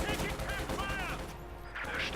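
Panzer Grenadiers in Company of Heroes 2 fire in a dense, continuous crackle of small-arms shots amid battle noise and whistling effects, with a voice talking over it.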